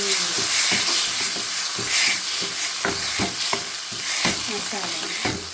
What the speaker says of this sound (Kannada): ಇದನ್ನೀಗ ಲಾಯ್ಟ್ ಮಾಡಿ ನಾವು ಫ್ರೈ ಮಾಡ್ತೀವಿ